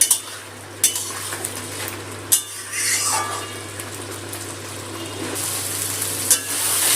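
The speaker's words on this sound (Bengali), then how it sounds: "গ্যাসটা মিডিয়ামে রেখে মশলাটা খুব ভালো করে কষিয়ে নেব সময় নিয়ে।" Spice paste stir-fried in a pan over a medium gas flame: a steady close sizzle broken by spatula scrapes and a few sharp knocks against the pan, with no talking.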